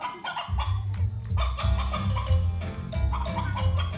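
A hen clucks repeatedly in a stream of fowl sounds, set over a loud, steady low musical backing that runs through the whole stretch.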